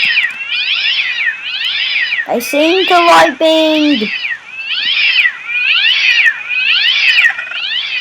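Cartoonish cat meows repeat in a steady rhythmic loop from creatures in a video game mod, loud and close, broken midway by a voice speaking over them.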